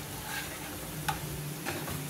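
Spices simmer with water in a cooking pan for a Bengali dhokar dalna while a spoon stirs them, giving a soft steady sizzle with a few light scraping clicks. It is quiet and close, with no talking.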